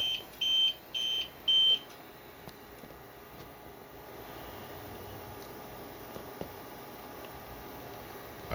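A battery backup system's alarm during a power outage gives three short high beeps in quick succession, fairly clear and close, then falls silent, leaving a quiet hum and faint room noise.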